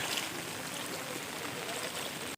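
Steady rushing floodwater of the Agasti river flowing through a gate at Ravande village, a dense continuous roar with no pauses and no voices.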